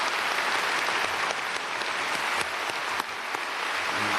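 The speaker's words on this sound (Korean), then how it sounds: "박수하겠습니다." A large church congregation applauds the youth and university group at a special dawn service, dense steady clapping from many hands filling the hall without a break.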